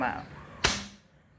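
One sharp, loud crack of a NIMROD airgun shot fired without its suppressor, close by, with a short ring-off and quiet before and after.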